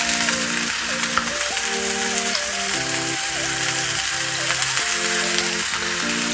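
Potatoes and beans sizzle steadily in a frying pan as they are stirred, with continuous loud frying hiss and background music playing throughout.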